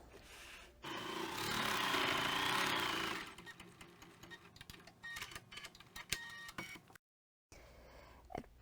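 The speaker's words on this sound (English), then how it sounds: "we're going to stitch this down. We're going to stitch the bottom seam." An embroidery machine stitching the bottom seam of a fabric eye mask, running in a steady whirring burst, then a stretch of rapid ticking stitches and clicks, with a brief silent break near the end.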